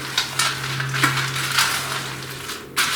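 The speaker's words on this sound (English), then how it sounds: "You're going to stir them all around, get them all coated." Old Bay snack mix stirred around in a baking pan, giving a steady run of dry scraping and light clinking, with several sharper rattles as the pieces tumble over the metal, close and alone.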